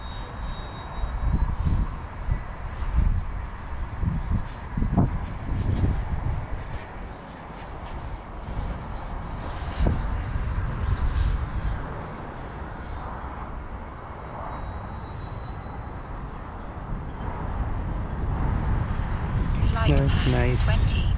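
A Freewing F-22 model jet with a 90mm electric ducted fan flies overhead with a sustained high whine that rises and falls as it passes. Wind buffets the microphone, and a person speaks intermittently.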